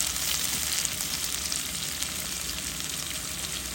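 Tomato and green chillies sizzle in hot oil in a pan for a mixed fish curry, a steady, close, bright frying hiss with no talk.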